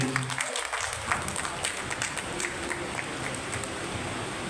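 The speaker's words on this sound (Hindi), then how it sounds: "प्रदीप खेड़ा जी के लिए एक बार तालियां बजा दीजिए" An audience at a Sindhi community gathering in Delhi marking Partition Horrors Remembrance Day applauds with steady, moderately distant clapping that carries on through the whole stretch at an even level.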